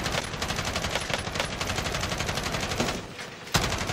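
Rapid automatic gunfire from Call of Duty Warzone, sustained bursts in a steady rattling rhythm, loud and close, with a brief gap near the end before another sharp shot.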